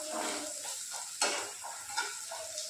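Mustard seeds, turmeric powder and curry leaves, along with cumin and coriander, sizzle in hot oil as a spoon stirs the pan. A steady close frying hiss runs throughout, with a few scraping knocks of the spoon and no voices.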